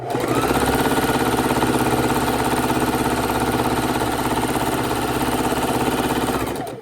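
A sewing machine stitches through quilt pieces in one continuous, rapid, close run, a steady mechanical whir with fast rhythmic needle chatter that slows near the end.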